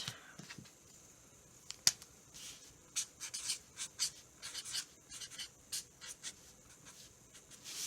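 Pen writing on paper during card making, a series of short scratchy strokes and taps, close and quiet, with no talking.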